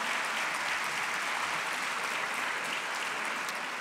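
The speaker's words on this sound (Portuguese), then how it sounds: "Mais um aplauso, então." Steady audience applause at a dental medicine graduation ceremony in Lisbon, a full hall of clapping hands heard alone throughout, even and sustained.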